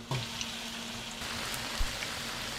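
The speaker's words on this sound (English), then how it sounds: "Now be very careful putting this in the hot oil." Potato latkes sizzling in hot oil in a pan, a steady, soft crackle with a brief pop at the start, no talking.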